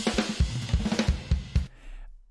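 A drum fill built from three-note sixteenth-note groupings on the bass drum with tom strokes filling the gaps, giving a fast rolling run of close, punchy hits for about a second and a half before ringing off into silence.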